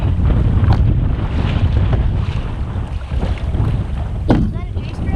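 Steady wind blowing across a canoe on a Boundary Waters lake, a loud continuous rumble and rush with wind buffeting the microphone, water sloshing faintly beneath it throughout.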